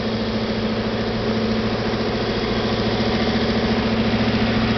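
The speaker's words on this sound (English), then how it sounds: "I'll let you hear the exhaust" A 1928 Ford coupe hot rod's loud exhaust idles with a deep, steady, lumpy rumble, close by and continuous.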